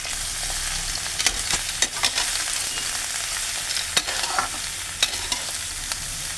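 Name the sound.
eggplant pieces frying in hot oil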